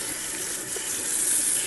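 Tap water runs steadily into a kitchen sink while lilac flowers are rinsed for jam, a close, even hiss with no break and no voices.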